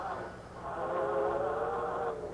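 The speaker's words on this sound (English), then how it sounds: "There's a train." Train approaching in a suspense horror game, a sustained rumbling roar with a steady rising whine that grows slightly louder over a couple of seconds, heard alone without talk.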